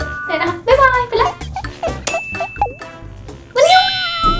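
A notification bell sound effect rings out as a few bright, ringing dings in a row, with a child-like voice talking between them.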